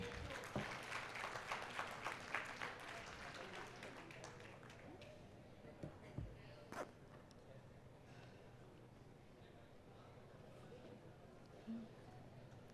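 An audience at a question-and-answer panel session applauds as panelists are felicitated, a burst of clapping in the first few seconds that thins out to scattered claps and faint room murmur.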